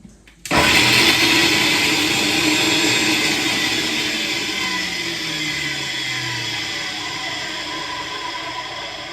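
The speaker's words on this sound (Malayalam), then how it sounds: "അവള് മിക്സി ഓണാക്കാം" A mixer grinder switches on abruptly and runs with a loud, steady whirring roar, its pitch shifting slightly as it settles, continuing close by to the end.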